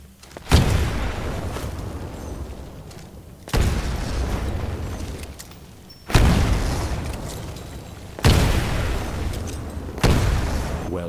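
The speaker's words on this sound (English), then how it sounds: "Throw a grenade into each of the windows." Grenades explode one after another in windows during a Titanfall training course, five loud booming blasts spaced roughly two seconds apart, each with a sharp onset and a rumbling decay, with no talking.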